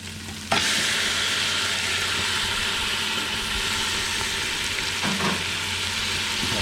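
Beef pieces drop into a simmering Thai curry with greens and set off a sudden loud, continuous frying hiss that runs throughout, with occasional stirring scrapes close by.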